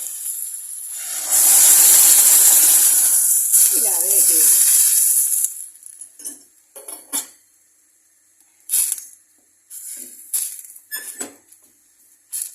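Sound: pouring potato cooking water into soup pot

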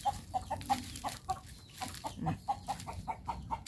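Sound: chickens clucking

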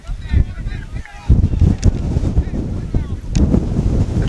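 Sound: strong wind gusts

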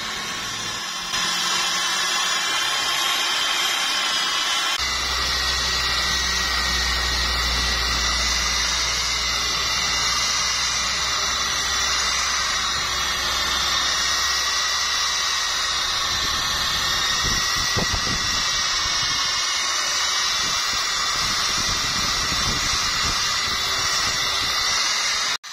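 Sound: buffing car headlight with rubbing compound

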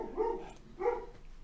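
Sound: dog barking at seagulls

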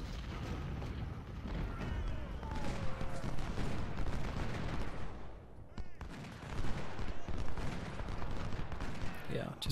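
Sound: gunfire from troops shooting in Ultimate General: Civil War video game

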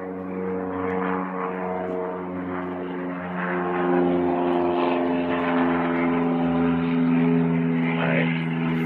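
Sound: airplane flying overhead

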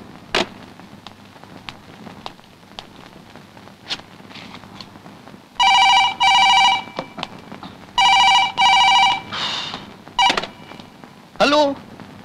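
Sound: telephone ringing after dialing a number

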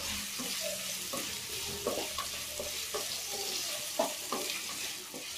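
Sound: potatoes frying in a pan

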